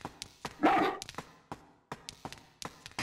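A dog in the survival horror game Haunting Ground gives short, sharp barks in an uneven series, with one longer, louder growling burst near the start, heard up close and alone.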